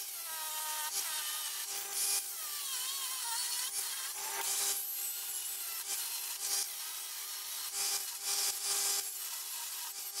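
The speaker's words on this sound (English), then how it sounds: "I'm going to try and cut a notch into there so that the head of the bolt will sit on that" A hand saw cuts a notch into a metal windscreen bracket for a bolt on an Africa Twin CRF1000 motorcycle, with steady rasping back-and-forth strokes close by, broken by brief pauses, and no voices.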